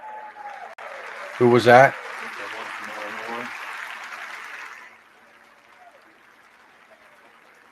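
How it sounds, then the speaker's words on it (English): Members of Congress applaud in the House chamber during the fourth day of the Speaker election, a burst of many hands clapping that swells, carries on for a few seconds, then fades out, with a voice speaking briefly over it. "And they're all clapping"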